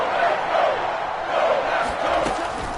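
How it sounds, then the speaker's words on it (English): A stadium crowd in a football video game roars on a big third down, a swelling, surging mass of cheering voices that rises and falls in waves. "the crowd getting into it as we come up on a big 3rd down"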